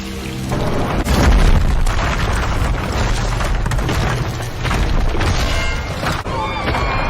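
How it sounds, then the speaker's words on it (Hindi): Loud explosion and volcanic eruption sound effect, a deep rumbling boom that swells into a dense, continuous roar for several seconds with no speech. "सुषुप्त ज्वालामुखी भी सक्रिय हो जाएंगे और अग्नि की बरसात बरसाएंगे।"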